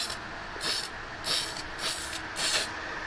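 A spray paint can lays a coat on a 1973 Chevelle Malibu: four close bursts of hissing spray, each under a second long, over a steady background hiss, with no talking.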